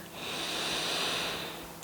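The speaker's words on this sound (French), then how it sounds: "on prend une grande respiration ensemble. On inspire." A single slow, deep breath drawn in during a relaxing yoga session, a soft airy hiss that rises, holds and fades over about two seconds, close and alone.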